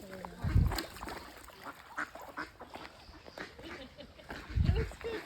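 Ducks on a farm quack in two low, harsh bursts a few seconds apart, set among rustling outdoor noise and quieter background sounds.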